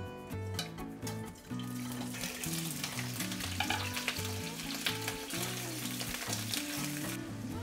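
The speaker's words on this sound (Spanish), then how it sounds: "en una sartén con un poco de aceite vamos a agregar las mollejas y las vamos a dejar dorar" Steady crackling sizzle of chicken gizzards frying in a little oil in a pan, continuous and close, with music playing underneath.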